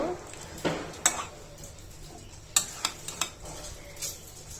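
A spoon stirs milk into chicken roast in a pot, with scraping and sharp metallic clinks against the pot over a faint, steady simmering sizzle.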